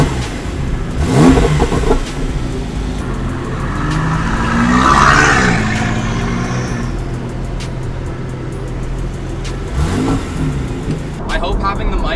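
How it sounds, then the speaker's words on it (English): Porsche supercar set to Sport Plus mode, loud engine revs rising and falling in swells, close up, with people talking over it. "Got the Porsche started up."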